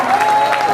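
Crowd applause at a political rally in Madhya Pradesh, a brief, dense burst of clapping filling the space, with a faint sustained tone running underneath.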